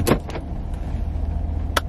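Car interior before driving off, a low idling rumble with a couple of sharp clicks and thumps near the start and another near the end.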